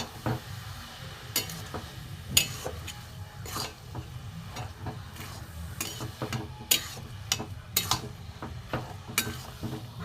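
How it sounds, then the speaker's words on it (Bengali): Jaggery and coconut frying in a pan, stirred steadily, giving a low continuous sizzle with repeated sharp scraping and clinking strokes of the spoon throughout, close and moderately loud. "ভালো করে এটা ভেজে নেব।"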